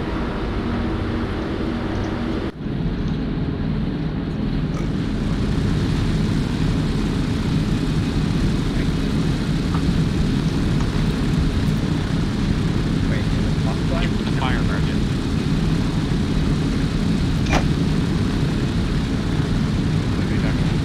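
Aircraft engine droning in flight in Arma 3, a loud, dense, continuous roar filling the whole stretch, with people talking over it.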